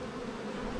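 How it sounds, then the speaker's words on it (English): Angry honeybees swarm around a hive box fitted with pollen traps, a dense, steady close buzz with no letup and no voices. "This box was 2 full boxes of bees and they were a little more upset than this other one"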